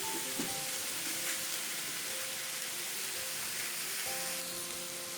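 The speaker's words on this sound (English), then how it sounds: "while our peppers, mushrooms, and onions and garlic are still cooking up here" Peppers, mushrooms, onions and garlic sizzle in a hot pan with a steady, dense, crackling hiss that holds at an even moderate level throughout, with faint tonal hums underneath and no voices.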